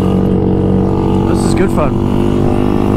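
A motorcycle engine over-revs while riding, a loud, steady high-pitched drone with close engine roar throughout and a brief wavering of pitch, while the rider speaks briefly.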